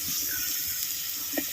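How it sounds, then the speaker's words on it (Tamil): Water, six litres in all, pours steadily into a pot for Chettinad therakkal curry with potatoes and brinjal, a continuous close hissing rush with no break. "அதனால 6 லிட்டர் தண்ணி வந்து இப்ப சேர்த்துக்கிட்டேன்"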